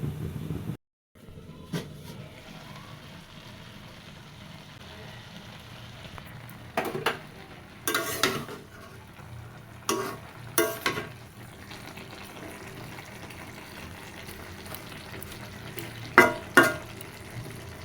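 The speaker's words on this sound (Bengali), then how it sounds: "শাকটা ঝোলের সাথে মিশিয়ে নিব।" Greens stirred into a simmering curry broth over a low flame give a soft, faint bubbling background, broken by several short clattering scrapes of a spoon against the pot, with no voices.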